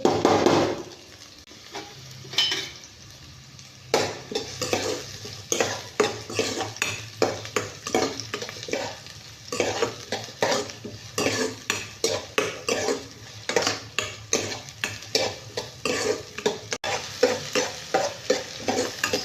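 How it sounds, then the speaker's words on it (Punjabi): Chopped onions and green chilies frying in hot oil in a pan give a steady sizzle, punctuated by a rhythmic series of spatula strokes scraping and tapping the pan, close up with no talking. "ਸੋ ਆਪਾਂ ਚੰਗੀ ਤਰ੍ਹਾਂ ਇਹਨੂੰ ਭੁੰਨ ਲਾਂਗੇ ਪਿਆਜ਼ ਨੂੰ"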